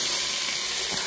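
Rice sautéing in a saucepan with onions, a steady close hiss of sizzling that runs evenly through the whole short moment with no voices.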